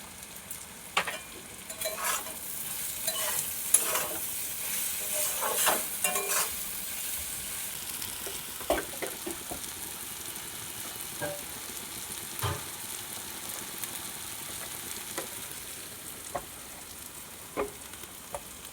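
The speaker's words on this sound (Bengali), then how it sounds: "তাই শুধুই ভাজা করছি" Soft, steady sizzling of taro stolons frying in a pan with intermittent scraping and stirring clicks, close and fairly quiet, no voices.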